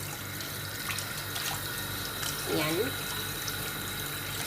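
Tap water runs steadily into a sink as raw chicken is washed under it, a constant close splashing hiss with a brief spoken word over it.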